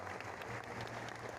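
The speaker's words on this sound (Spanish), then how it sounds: "y ahí sigue fortísimo aplauso" Sustained, dense applause from a large audience at a corporate anniversary event, a steady roar of clapping with no pauses.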